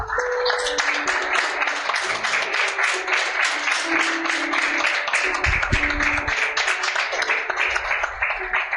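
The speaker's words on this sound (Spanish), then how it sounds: "Puedes darle un aplauso a Dios." A church congregation claps together during a Spanish-language general service, a sustained and fairly loud wash of many hands with faint voices and tones underneath.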